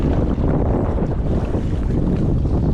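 Strong wind roars steadily over open sea during kayak fishing off Taranaki, in a wind-against-tide chop, a dense low rumble of gusts and buffeting on the microphone with no break and no voices.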